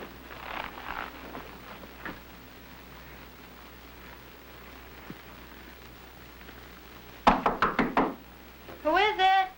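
Police officers rap sharply on a house door, a quick burst of about five loud knocks near the end, preceded by quiet background sound and a brief voice at the close.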